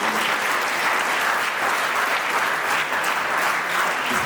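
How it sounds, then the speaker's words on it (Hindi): A crowd of schoolchildren at a model youth gram sabha event at JNV Patiala applauds steadily, a continuous dense clapping that stays even from start to finish. "तो सभी बच्चे तालियों से इनका हौसला अफजाई करें।"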